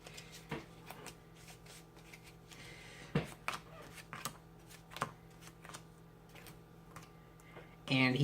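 Marvel Legendary game cards are shuffled by hand on a tabletop, giving quiet scattered riffles and taps and a louder burst of flicking cards at the end, close and faint, with talk in between.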